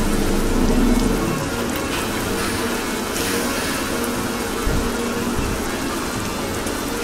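Steady rain patters on a moving Setra intercity bus at night over a continuous vehicle rumble, a dense even hiss with no talking.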